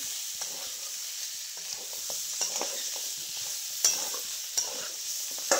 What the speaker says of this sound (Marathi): चांगलं हलवून घेतलंय